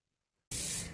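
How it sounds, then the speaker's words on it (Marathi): A pressure cooker cooking masala rice vents steam: after half a second of silence, a loud, harsh hiss bursts on abruptly and holds steady for about half a second. "चला शिट्ट्या करून घेऊ आता"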